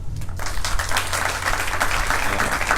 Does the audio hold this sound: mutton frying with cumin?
no